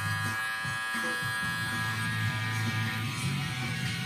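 Electric hair clippers with the blade fully open trim a beard at a barbershop, giving a steady, close, buzzing hum that runs throughout with no talking.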